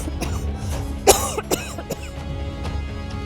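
A single sharp cough bursts out once over steady background noise, followed by a couple of fainter throat sounds, with no talking.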